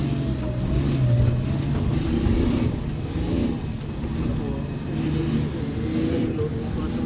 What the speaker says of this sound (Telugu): సో లోడ్ బండ్లు వెళ్తూ ఉన్నాయి, మనం చూస్తూ ఉన్నాం